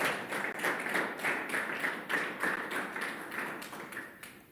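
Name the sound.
congregation applause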